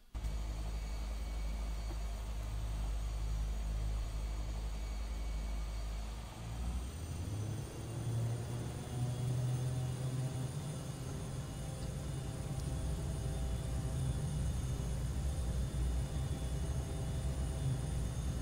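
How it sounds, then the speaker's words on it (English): Embraer EMB-314 (A-29) Super Tucano turboprop engine in a flight simulator, a steady loud drone that deepens and swells partway through as power rises, continuous with no talking. "the old freeware EMB-314, aka the A-29 Super Tucano, from Tim Piglet Conrad"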